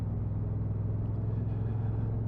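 A 2022 Honda NT1100 motorcycle engine idling with a steady, close low rumble; no distinct throttle revs stand out over the constant drone.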